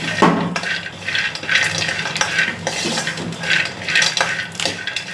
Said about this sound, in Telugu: ఇలాగే మనము స్లోగా ఫ్రై చేసుకుంటూ ఉండాలండి.